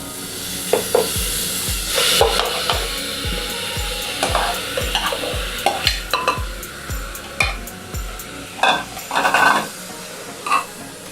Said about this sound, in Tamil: இப்போ நம்ம நெக்ஸ்ட்டு போட போகிற ஐட்டம் மட்டனு போட்டுக்கலாம்.